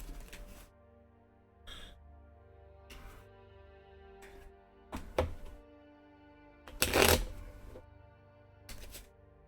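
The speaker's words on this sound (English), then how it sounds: "I'm going to shuffle them first." Scattered brisk riffling and soft thunks, like cards being handled and shuffled in short bursts, with quiet pauses between.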